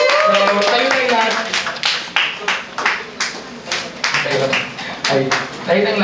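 A church congregation claps for the Lord in a series of rhythmic hand claps that rise and fade in waves, with a voice talking over the clapping.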